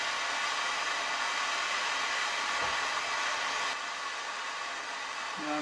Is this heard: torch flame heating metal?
yes